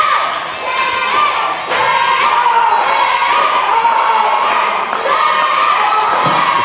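Wrestling show crowd at the NWA Mountain State event cheering and shouting loudly, a dense roar of many voices with chant-like rises and a brief dip, sustained throughout at close range.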